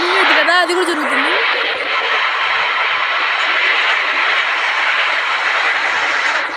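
A train coach rolling along in a mobile video game makes a loud, steady broadband rumble and hum that holds evenly throughout, after a brief wavering tonal sound at the start.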